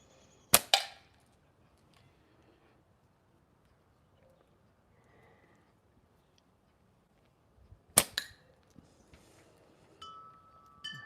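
A slingshot fires projectiles outdoors on a windy day, giving two sharp, loud snaps several seconds apart with quiet between them and faint rustling after.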